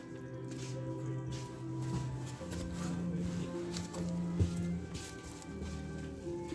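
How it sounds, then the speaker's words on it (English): Excess water drains and squishes out of dormant scion wood being stored, with soft wet trickling and faint patters running steadily throughout under a low background hum. "Just getting all the excess water out."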